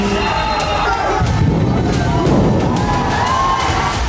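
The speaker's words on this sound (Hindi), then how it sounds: "एक तरफ युवाओं की गुस्साई भीड़" Angry crowd of young protesters in the street, a dense roaring mass of shouts and babble with scattered sharp bangs, loud and continuous.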